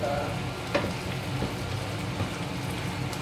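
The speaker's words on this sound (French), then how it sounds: "mon poireau, on va le faire revenir d'abord dans l'huile" Leek frying in oil in a pan fizzes with a steady, close crackling sizzle, broken by a few soft stirring knocks, and nobody speaks over it.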